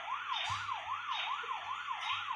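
Police car siren in a video game, a rapid rising-and-falling wail repeating about every third of a second, steady and moderately loud over a low engine hum with a few dull knocks.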